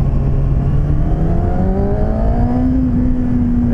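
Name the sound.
Kawasaki Ninja ZX-6R 636 motorcycle engine revving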